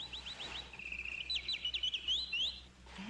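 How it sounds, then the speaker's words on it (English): A caged bird sings a run of quick, high chirps and trills, steady across about three seconds over a low background hum. "you see the bird in the cage?"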